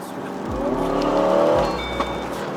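An Aston Martin DBX707 in Sport Plus mode accelerating hard, its engine rising loudly and close in pitch through two quick gear changes, with a short sharp pop near the end.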